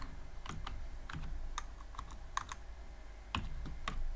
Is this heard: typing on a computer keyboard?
yes